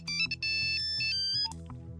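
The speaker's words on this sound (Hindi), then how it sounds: "Shut that phone." A phone ringtone plays a bright, repeating melodic tune for two seconds, loud and close, heard during a scene in a 2007 Hindi feature film. No one speaks.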